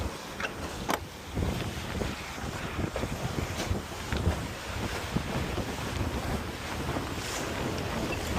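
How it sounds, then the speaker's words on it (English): Strong wind buffets a sailboat alone at sea near Venezuela, roaring across the microphone in gusts while water rushes and splashes against the hull. "It's a bit windy"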